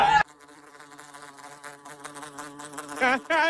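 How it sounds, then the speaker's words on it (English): A bee buzzes indoors with a steady, droning whine that wavers in pitch, framed by brief louder tonal sounds at the start and end. "There's a bee in here."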